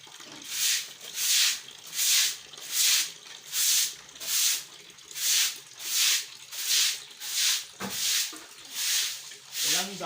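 Water washes down the floor of a pig pen in a piggery, making rhythmic hissing, splashing bursts that repeat roughly every second. The sound is steady and fairly close, with no voices.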